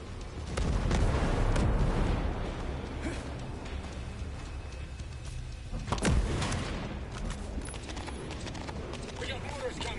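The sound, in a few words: mortar explosions in video game Ghost Recon Breakpoint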